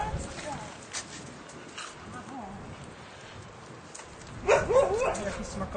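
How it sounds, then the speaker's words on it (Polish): A dog barks during leash-reactivity training, one short burst of yaps late in the clip, over background noise and a person talking. "Zignorowała szczekanie."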